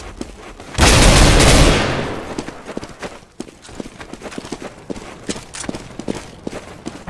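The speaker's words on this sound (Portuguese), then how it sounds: "Throwing a flashbang!" Flashbang grenade bursting in Counter-Strike: Global Offensive, a loud broadband blast that fades over about a second, followed by quick rapid footsteps and clatter.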